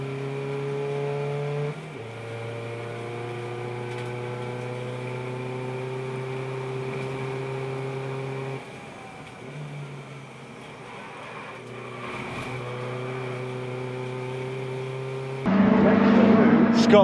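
Race cars lap the Donington circuit during a trackday championship race, their engines droning steadily and shifting pitch through several gear and speed changes. The engine note grows louder and rougher at the end, with a commentator's voice running over it.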